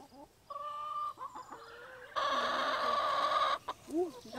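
Hens cluck in short bursts at close range, followed by a sustained loud, squawking stretch of fowl calls.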